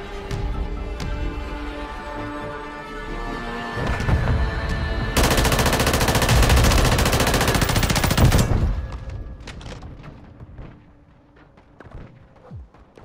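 Rapid automatic gunfire from a gun in Call of Duty MW3 Ground War, loud close bursts of dense rapid shots building to a sustained stretch, then trailing off into scattered distant pops and thuds.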